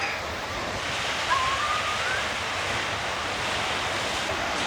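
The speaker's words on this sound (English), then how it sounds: "So this is the main beach at Yamba." Ocean surf rolls steadily onto the main beach at Yamba, a continuous broad wash with wind buffeting the microphone. No voices are heard.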